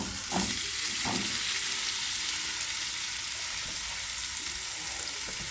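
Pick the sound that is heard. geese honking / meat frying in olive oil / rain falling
meat frying in olive oil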